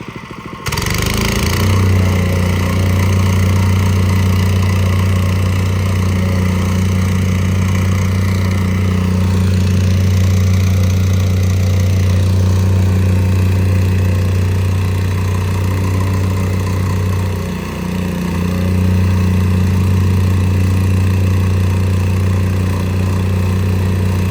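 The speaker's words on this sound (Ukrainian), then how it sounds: "взяли в оренду якусь нову віброплиту, і вона легша і не так добре працює, як попередні, тому дотрамбовуємо вручну" A lightweight rented plate compactor tamping soil behind a retaining wall runs as a loud, steady engine drone with a low vibrating hum, holding unbroken for over twenty seconds apart from a brief dip.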